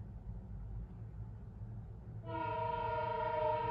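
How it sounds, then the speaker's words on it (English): A train horn sounds from about halfway through, a loud sustained multi-tone blast rising over a steady low rumble of the passing train. "And there goes the train."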